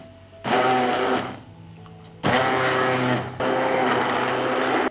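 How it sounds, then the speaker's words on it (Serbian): Stick blender whirring in a mix of milk, dry yeast and a little salt, running loud in three separate bursts of about a second each with quiet gaps between. "I sve ću ovo umutiti sa štapnim mikserom."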